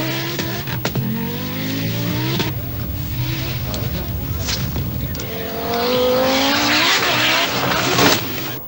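A 5-cylinder 20V Audi Quattro S1 rally car drives a bumpy rally stage, its engine rising and falling through gears with rasping revs, occasional tyre squeal and a loud climbing burst near the end, while a commentator talks over it.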